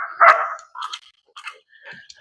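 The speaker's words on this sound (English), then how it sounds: "we have our dogs barking in the background" Dogs barking in a backyard during yard work, with one loud bark followed by several shorter, fainter yips and barks spaced out over a couple of seconds, heard alone without speech.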